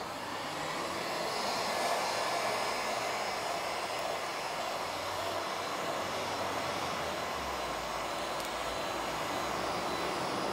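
A heat gun blows a steady, loud, even hiss of hot air onto a dented car body panel during paintless dent repair, holding constant with no talk for about ten seconds.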